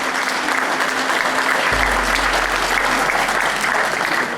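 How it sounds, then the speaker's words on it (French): Applause from a crowd at the 2011 Coupe de France Corpo event for the volunteers, dense steady clapping filling the space, loud and close, with a low hum entering partway. "On peut les applaudir."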